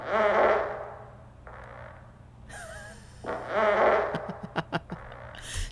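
Several long, sputtering farts echo in a reverberant men's restroom at a Kohl's store, ending in a rapid series of short bursts.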